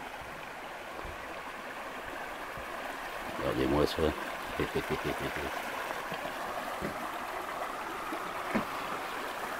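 A small stream flows under a footbridge along a country path, a faint steady trickle heard throughout, with footsteps on the bridge and brief talk midway.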